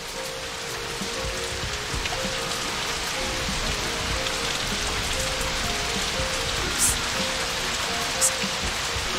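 Steady rain falling in the PC video game Know By Heart, a dense, even hiss of drops on surfaces with a faint low tone beneath and a couple of brief brighter splashes near the end.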